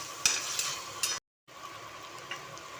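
Raw tomato chutney cooking in a pan as it is stirred, with a soft steady sizzle and occasional spoon scrapes, broken by a brief moment of total silence midway.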